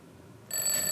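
An alarm clock rings in a hostel dormitory with bunk beds, a bright electronic tone starting abruptly halfway through and continuing loud and steady after a quiet room hush.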